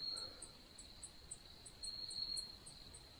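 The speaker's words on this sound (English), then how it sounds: "It's like really quiet, like apart from the crickets." Crickets chirp at night at a quiet campsite beside a motorcycle trip, a faint steady high trill with regular pulsing repeats over a soft background hiss, no voices.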